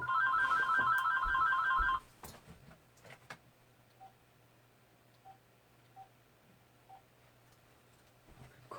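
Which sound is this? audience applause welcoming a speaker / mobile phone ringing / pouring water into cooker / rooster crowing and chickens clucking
mobile phone ringing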